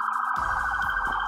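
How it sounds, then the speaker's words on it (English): An emergency vehicle siren wails on a Boston street, a steady loud tone heard briefly with street rumble underneath. "There are a lot of ambulances and police sirens and fire truck sirens in Boston"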